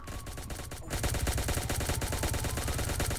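Gunfire in Pixel Gun 3D, a rapid, loud, steady automatic burst of evenly spaced shots kicking in after a brief lull and continuing without pause.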